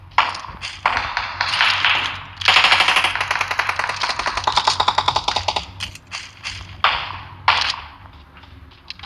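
Rapid bursts of automatic rifle fire from an M762 in PUBG Mobile, loud and close, with rattling rounds, sharp single shots and brief pauses between volleys.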